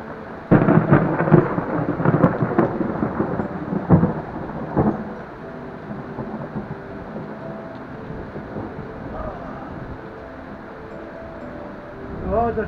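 Steady rain pours down with sharp cracks and rumbles of thunder early on, then settles into a continuous hiss of heavy rainfall.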